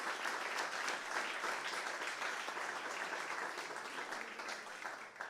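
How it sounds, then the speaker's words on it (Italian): Audience applause at a Venice food excellence award ceremony, a dense, steady wash of clapping from many people that holds for several seconds and eases slightly at the end. "Comunque facciamo un applauso ugualmente."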